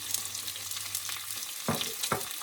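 Ginger garlic paste fries in hot oil for a Sri Lankan beef curry, a steady close sizzle that flares into two louder hissing bursts as onions are tipped into the pan.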